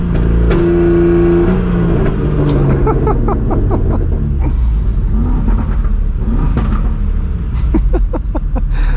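Straight-piped BMW M4 G82 with a manual gearbox, its exhaust rumbling loud and close with rising revs and sharp crackles and pops as the throttle lifts.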